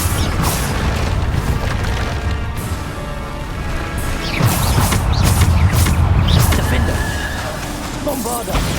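Repeated Bombarda explosion spells in Hogwarts Legacy combat, a dense run of heavy booms, crashes and debris clatter that swell and ebb across the stretch, loud and close.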